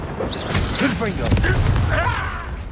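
A Confringo fire spell blast goes off in Hogwarts Legacy, a booming, crackling burst with fiery whooshes layered under a voice shouting the spell and continuing game chatter.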